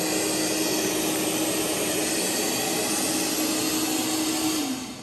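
A ZOOZEE Z50 robot vacuum cleaner running under manual control, a loud, steady whirring roar with a constant motor whine that drops in pitch and fades as it winds down at the end.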